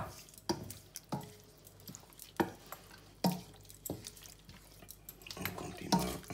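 Crushed tomatoes (pelati) being stirred with salt in a pot, with soft wet scraping strokes and a few sharp knocks of the utensil against the rim, repeated irregularly at close range with no talk.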